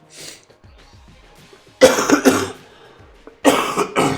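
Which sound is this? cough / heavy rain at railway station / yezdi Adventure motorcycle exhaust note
cough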